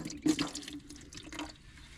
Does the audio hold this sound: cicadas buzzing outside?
no